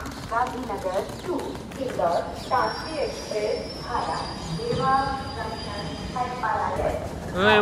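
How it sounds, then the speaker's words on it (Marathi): Rumbling rail noise of a train at platform 4 of a station, with a faint high squeal, while people talk over it throughout. "आमची 4 नंबर प्लॅटफॉर्मवर ट्रेन लागली आहे"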